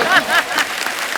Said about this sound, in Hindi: इनके कुक के लिए जोरदार ताली।